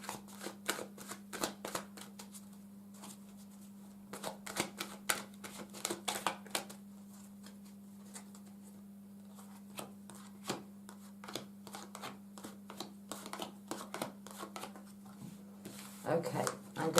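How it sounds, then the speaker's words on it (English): Tarot and angel cards shuffled by hand in quick, soft riffling bursts with short pauses between them, close and quiet over a low steady hum. "I'm going to shuffle these as well"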